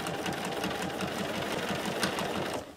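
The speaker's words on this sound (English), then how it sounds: "Now you can just stitch down until you get to the end of where you've done your single stitching." A sewing machine stitches a fabric strip cord for a rug, its steady, fast needle rhythm running close and loud throughout before easing off at the end.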